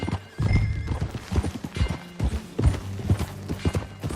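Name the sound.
horse hooves trotting in a video game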